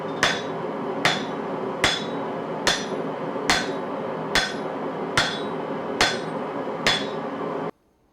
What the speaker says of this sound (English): I'm just rotating the stock and whacking away, trying to maintain symmetry as I go.